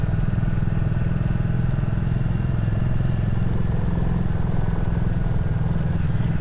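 A Royal Enfield Classic 350 motorcycle ridden through Alsace toward Wissembourg, its steady low engine drone and wind rush filling the whole stretch evenly and close, with no break in the sound.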